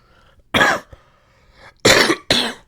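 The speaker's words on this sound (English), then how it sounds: "I had a cough" Three sharp coughs, close and loud: one on its own, then a pause, then two in quick succession, with near silence between them.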